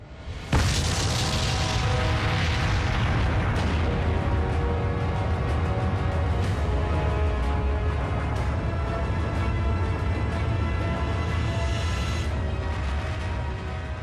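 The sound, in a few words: atomic bomb test explosion in the desert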